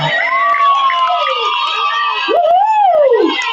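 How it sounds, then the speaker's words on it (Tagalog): A loud birthday-party crowd, many of them children, cheers and shouts together in a sustained burst of high excited voices that swells again near the end. "maaari po ba ako makarinig po muna mula po sa inyong lahat ng isang malakas na palakpakan na may kasamang sigawan dyan"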